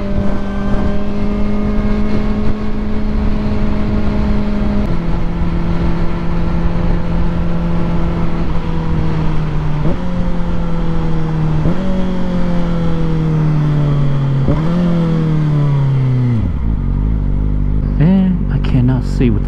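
A Kawasaki Ninja ZX4RR motorcycle ridden hard, its loud, close engine revving up through several gears, with each shift dropping the pitch before it climbs again, then easing off at the end.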